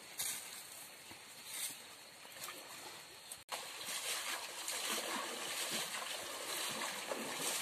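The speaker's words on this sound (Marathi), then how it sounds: "बैल थोडा तापलाय मित्रांनो आणि त्याच्यावर थोडंसं पाणी मारतोय." Water is splashed over an overheated bullock under the midday sun on a rural road in Konkan: a run of wet splashes and trickles, moderately close, continuing on both sides of a brief break.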